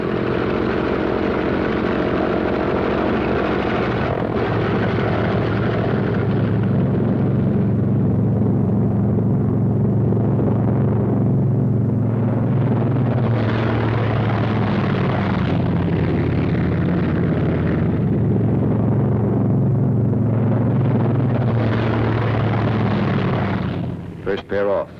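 Several WWII P-47 fighter planes run up and take off, a loud, steady radial-engine roar with propeller drone that swells and shifts across the whole stretch, near and dominant.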